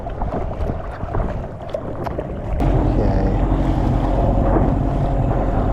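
A small boat motors upstream against a river current, with a steady outboard drone that jumps louder partway through under wind buffeting and water noise.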